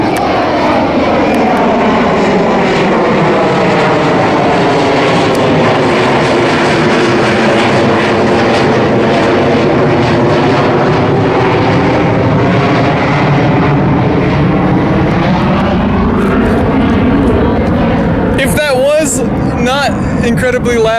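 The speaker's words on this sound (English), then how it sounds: "as the plane's gonna go by" A loud airplane roars overhead, its engine pitch sweeping down as it passes, and the roar stays heavy and continuous throughout.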